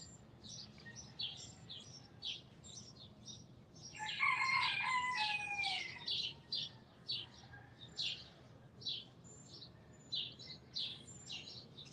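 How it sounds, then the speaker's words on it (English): Two roosters crow back and forth in the background, their calls repeating in a steady alternating rhythm beneath chirping birds, with one louder, longer crow standing out midway; no talking. "Those two roosters. They always talk back and forth. You can hear them in the background."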